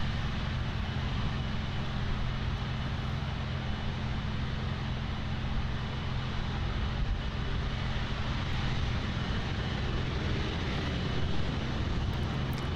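A Boeing 767-300 cargo freighter on short final to land on runway 09 at Miami airport, its engines a steady, unbroken broadband roar that holds evenly loud for the whole stretch with no voices over it.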